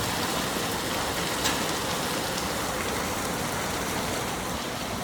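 Heavy rain pours during a night ride, a dense, even hiss of drops drumming on surfaces, continuous and close with no talk over it.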